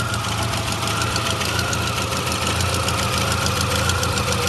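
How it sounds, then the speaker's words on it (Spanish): A Chevrolet Zafira with a blown head gasket idles close by, its engine running rough and uneven with a continuous loud knocking, misfiring chug and no voices. "Este carro se le ha soplado el empaque del cabezote."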